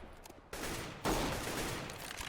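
Gunfire in a CS:GO match, a burst of broadband shots that jumps in loudness at about half a second and again near one second, then a sustained rattling volley that carries on to the end, with no talking.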